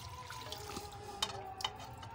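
Coriander leaves being rinsed in water, a faint, steady wash of running and splashing water with a couple of brief sharper splashes, while a sustained distant call to prayer hums in the background.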